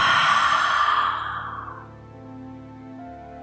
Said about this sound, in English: Take a deep inhale through the nose. And exhale.